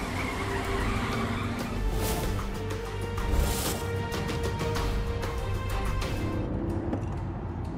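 A car accelerates hard with tires skidding and squealing in a loud, continuous screech that holds for several seconds close by, with engine roar underneath and no clear talk.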